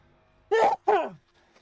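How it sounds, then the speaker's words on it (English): A person sneezing twice in quick succession, a sharp close burst followed by a second, longer explosive sneeze trailing off, against near silence. "I'm gonna sneeze"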